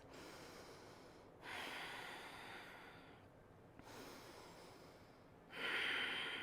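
A person breathes slowly and deeply during a yoga flow, with long airy inhales and exhales in a steady rhythm, close and fairly soft.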